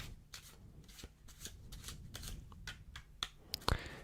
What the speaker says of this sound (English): I'm going to start by giving the deck a shuffle